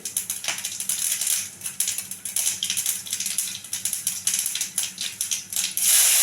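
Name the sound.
mustard seeds spluttering in hot oil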